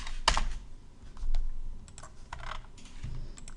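Someone types on a computer keyboard, with a sharp first keystroke followed by a scatter of lighter clicks that are quiet and close, with no speech.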